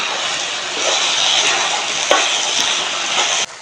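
Belkuwar greens stir-fry with spices in a pan, giving a dense continuous sizzle and crackle, close and loud, with a few sharp scraping taps from the spoon.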